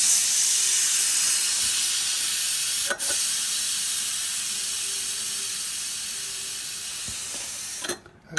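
A pressure cooker lets out a strong, continuous hiss of steam that slowly tapers, broken by a couple of brief metallic clicks and a clatter near the end, with no voices.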